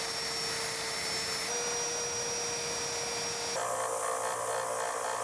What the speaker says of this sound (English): Got my belt sander.